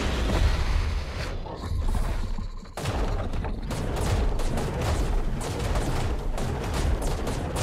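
Cannon fire against the Forest Titan in ARK: Survival Evolved Extinction, repeated heavy booming blasts in irregular bursts amid rumbling battle noise, loud throughout with no talk.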